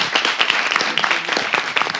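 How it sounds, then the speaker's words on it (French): Lively applause from a studio audience at a televised French-language debate, a burst of fairly close, crisp clapping from a modest crowd with irregular individual claps standing out. "On va applaudir pour elle."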